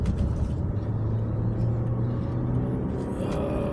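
A car engine hums and rumbles steadily as the vehicle gathers speed merging onto a road in Thailand, with loud continuous road and cabin noise throughout and no talk.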